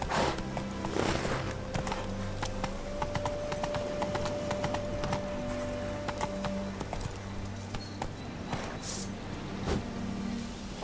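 Hooves of Roach, a horse in The Witcher 3: Wild Hunt – Hearts of Stone, clip-clop in a steady walking rhythm, close and clear for several seconds over a busy game soundscape with a sustained tone and faint jingling.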